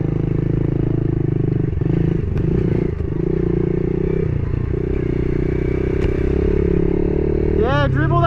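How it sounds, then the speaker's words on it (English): A pit bike engine runs steadily close by during a game of dirt bike soccer, its low drone rising and dipping under scattered clatter and scrapes, with voices near the end. "Let's play some dirt bike soccer."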